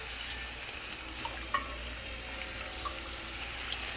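Broth is poured into a hot gumbo pot and hisses in a steady, even sizzle close by, with a few faint clinks and pops and no talking.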